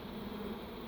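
Steady low buzzing from a swarm of bees clustered in and around a birdhouse and box, a continuous faint hum with no voices over it.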